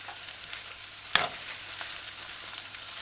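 Chopped carrots and onions stir-fry in a pan on a stove set to medium-low, giving a steady close sizzle with one brief scrape of stirring.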